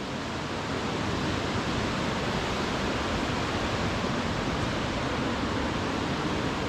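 A constant, loud rushing roar of a river pouring over rocks in wild Scottish landscape, broad and unbroken throughout, with no voices.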